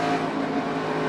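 A NASCAR stock car at Charlotte accelerating on track, its engine a loud, steady, close roar with no break across the short burst.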